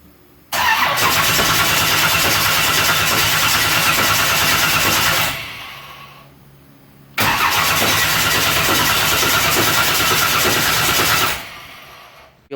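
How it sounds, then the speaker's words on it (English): A 496 racing engine in a race car fires up for the first time, catching with a sudden roar, running rough for several seconds, dropping away, then starting again and running before cutting out. "First fire on the 496 by Fessler Racing Engines"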